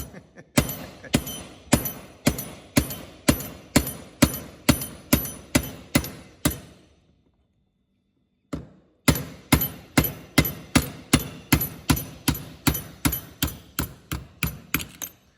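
Repeated hard hammer strikes on a socket pressing a pulley bearing out, loud, sharp metallic blows in a steady rhythm, about two a second, with a pause of a couple of seconds midway before the pounding resumes.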